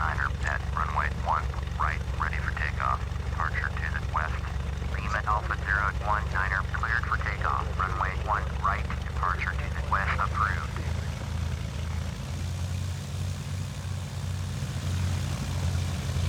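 Aircraft in the FsPassengers flight simulator game idling on the runway with a steady droning engine hum throughout, while a voice talks over it with radio-style chatter in the first two thirds.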